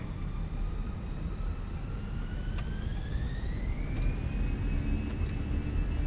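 Airliner jet engines throttling up on the runway in a flight simulator game, a steady roar beneath a rising whine that climbs smoothly in pitch, with no one talking.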